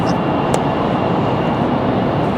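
Airplane on final approach at Raleigh Durham International, a steady, broad engine roar holding level throughout with no talk.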